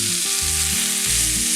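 Pressure-cooked chicken frying in a little oil on a tawa over a low flame, a loud, steady, close sizzle that continues without pause, with a faint tonal hum underneath.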